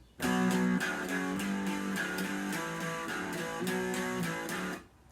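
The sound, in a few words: guitar playing first phrase of intro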